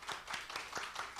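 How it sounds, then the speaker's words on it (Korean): Congregation at a Sunday church service clapping in blessing, a brief, soft run of rhythmic handclaps at moderate distance. "우리 이현수 집사님 박수로 축복합시다"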